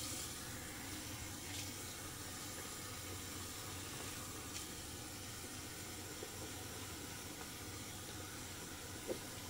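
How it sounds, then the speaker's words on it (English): Water runs steadily from a tap to rinse out a banana-scented shave soap puck, a continuous soft hiss of flowing water at low level with no talking. "I'm gonna rinse out the puck."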